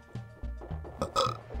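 A person who has been chugging water lets out a loud, drawn-out burp, rumbling in several low pulses with a rougher swell near the end.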